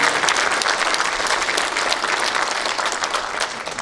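An audience applauds warmly after a taekwondo performance by the national world taekwondo demonstration team at a Gyeongsangbuk-do ceremony for the founding anniversary of the Korean Provisional Government, dense, sustained clapping that tapers slightly at the end.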